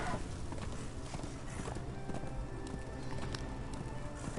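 Rhythmic clip-clop of a horse's hooves at a brisk pace in Darksiders 2 Deathinitive Edition, with faint background noise and no talking.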